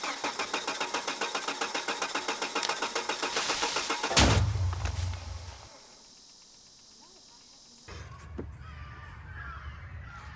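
A Volvo S60R with a newly replaced belt tensioner and freshly retimed engine cranks with a rapid rhythmic chug, then catches in a loud burst and cuts out to near silence before a low rumbling hum resumes.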